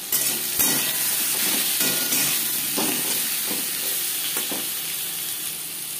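Potatoes fry in hot oil with salt and turmeric added, giving a steady close sizzle with soft scraping stirs and small clatters throughout, no voices.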